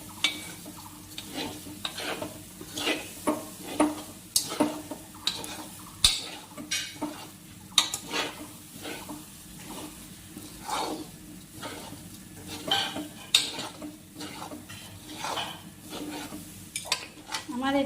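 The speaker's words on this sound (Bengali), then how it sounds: "এবার চিনিটা দিয়ে আবার 5 মিনিট এটাকে ভেজে নেব।" Gobindobhog rice pulao fries with sugar in a pan, a low sizzle under rhythmic, repeated scraping and stirring strokes of a spatula against metal, close and steady.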